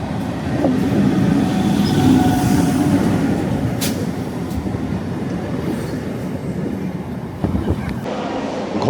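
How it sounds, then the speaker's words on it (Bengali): A local train pulls into Sealdah station in Kolkata. A loud, continuous rumble and clatter of rail wheels fills the clip, with brief sharp squeals and hisses and a few faint voices in the background. "ট্রেন আমাদের এসে পৌঁছেছে শিয়ালদা নর্থ সেকশানে।"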